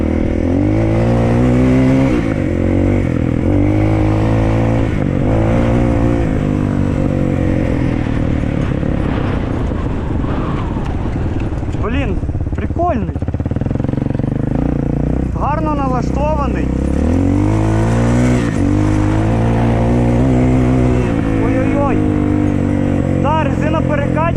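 A Shineray VXR 300 motorcycle engine drones and revs up and down continuously, loud and close, while a person talks over it.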